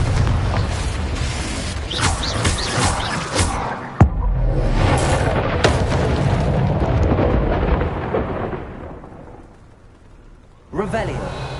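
Fiery spell blasts from the Confringo charm in the video game Hogwarts Legacy, a dense roaring stream of booming explosions with a sharp crack near four seconds, a quieter lull, then a fresh burst near the end, all loud and close.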